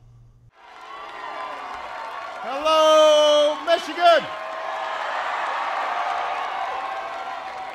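An intimate but enthusiastic crowd cheers and applauds a speaker's arrival at Macomb in Michigan, a steady wash of clapping and whoops swelling under a loud amplified voice greeting the audience.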